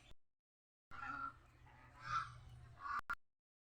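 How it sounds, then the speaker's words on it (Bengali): Domestic ducks by a pond give three nasal honking calls in a short spaced sequence, fairly faint and close, with quiet gaps between them. "পুকুরের পাড় আমাদের হাঁসগুলো আসছে।"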